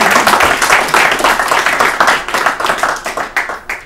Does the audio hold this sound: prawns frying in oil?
no